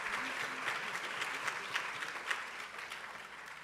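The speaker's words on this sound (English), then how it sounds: "We like to give them all a round of applause." Continuous, moderately loud audience applause fills a memorial tribute for Sekou Odinga, steady and even with scattered sharper claps throughout.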